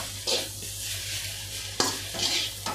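A spoon stirs Rayalaseema egg fry in a pan, giving a few sharp scrapes and knocks at intervals over a soft, continuous sizzle.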